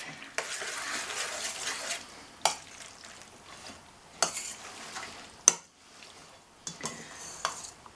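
Salad ingredients for a winter pantry salad being stirred and mixed in a bowl, giving a rustling, scraping run of sound broken by a few sharp utensil clinks against the dish, close and fairly quiet with no talking.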